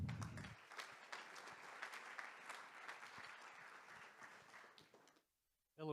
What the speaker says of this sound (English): Please give a round of applause to him.